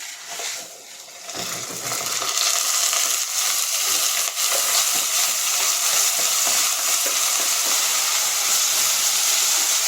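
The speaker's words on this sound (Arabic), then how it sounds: "هبتدي انزل بالرز كده" Rice is poured into a hot pan of ghee and stirred. After a quieter start, a loud, steady sizzling hiss swells up and holds continuously, with no voices.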